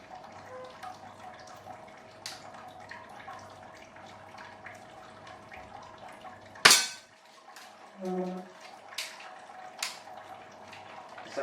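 An airsoft gun fires at a target, one sharp crack standing out above quiet background hiss, followed shortly by a faint rattle or impact.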